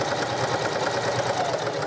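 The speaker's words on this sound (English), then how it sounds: "Just give this a little reinforcing stitch back and forth across that pocket area" A sewing machine runs steadily, stitching a tote bag made from Dollar Tree drying mats with a reinforcing stitch back and forth across a pocket, giving a fast, even mechanical whir that is close and without talk.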